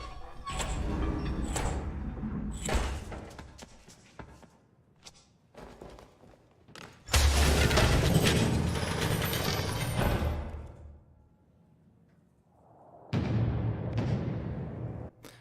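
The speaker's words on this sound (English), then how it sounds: "You're going to hear some keys jingling, and then a big bang, and then the door will finally open." An escape-room door in the Isolement room of the video game Battlefield 1: jingling keys and rattles, then a loud bang and a long rumbling grind as the door opens, followed by a final burst of noise.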